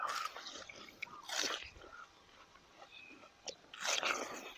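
Someone eating a large, sweet, juicy watermelon up close, with a few separate wet bites and crunches between quiet pauses.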